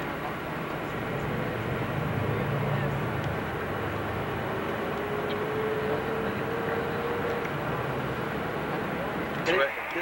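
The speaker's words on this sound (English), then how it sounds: "we're on the train to Liverpool right now" Steady interior rumble of a passenger train travelling to Liverpool, a continuous wide-band roar with a faint rising tone midway and a brief louder knock near the end, while people talk quietly.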